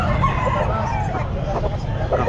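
A bullstag rooster crows at a busy pet market in Calumpit, its drawn-out call rising and falling over steady crowd chatter and background noise.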